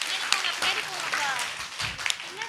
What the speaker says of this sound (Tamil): மறுபடியும் நல்ல ஒரு கைத்தட்டல் கொடுத்துருங்க மனப்பாட வசனம் சொன்ன பிள்ளைங்களுக்கு.